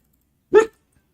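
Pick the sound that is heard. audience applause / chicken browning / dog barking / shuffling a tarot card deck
dog barking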